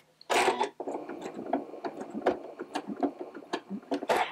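A sewing machine makes a short burst of rapid stitching close by to lock the stitches before free motion quilting on a practice sandwich, with a few uneven mechanical clicks after it.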